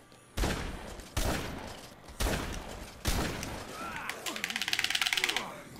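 Shotgun blasts in the video game Dead Rising 2, four loud separate booms about a second apart, followed by a rapid metallic rattling burst, with a player talking over the game audio.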